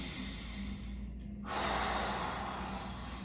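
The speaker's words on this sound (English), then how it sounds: "So first thing I'm going to do is just breathe." Slow, deep breathing during a low back pain self-care routine: a long, quiet inhale is followed by a louder, breathy exhale close to the mic, alone without talk.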